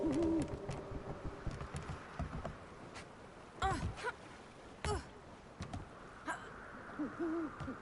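An owl hooting in the video game Never Alone, several soft hoots spread across the stretch amid scattered game sounds and clicks, with brief muffled vocal noises nearby.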